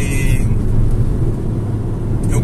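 Volkswagen Golf GTI MK7 with a Stage 2 tune accelerating hard with two people aboard, a loud sustained engine roar heard from inside the car.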